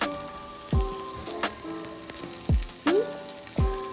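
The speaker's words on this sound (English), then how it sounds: "So while side 2 is still searing" Pot roast meat sears in a hot pan with a steady close sizzle, broken by a few sharp pops and spits.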